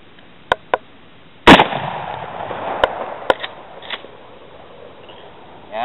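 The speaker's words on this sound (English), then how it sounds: "Let's shoot that one just down from it." Marlin 336Y rifle shots at cans outdoors: one loud close report with a ringing tail, framed by sharper small pops and clicks, ending with another rise.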